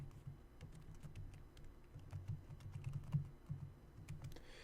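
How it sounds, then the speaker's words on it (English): Quick, uneven keystrokes patter on a computer keyboard in a quiet room, soft close clicks in short runs with small pauses while a database command is entered. "I'm going to type in use,"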